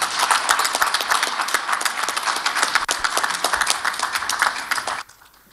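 A large audience applauds the Honorable Minister at a COVID-19 vaccination inauguration event, with dense, steady clapping that goes on for about five seconds and then stops sharply.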